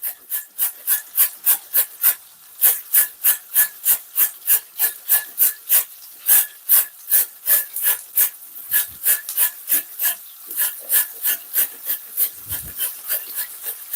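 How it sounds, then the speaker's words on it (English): A carrot is scraped quickly over a hand grater, about thirty rapid, evenly spaced rasping strokes, close and crisp, with a slight pause and a couple of soft knocks near the end. "So I'm grating about 1 carrot in this."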